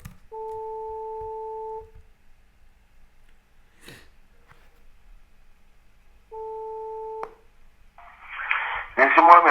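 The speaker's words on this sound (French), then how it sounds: "on va essayer de le rappeler parce qu'il y a eu 2 sonneries" Ringback tone of an outgoing telephone call made during a sales prospecting session, two long steady beeps several seconds apart, clear and alone, followed by a short noisy burst at the end.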